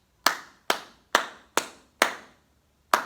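Hands clap a short rhythm: five evenly spaced crisp claps, then a longer gap before a sixth, close and clear in a quiet room.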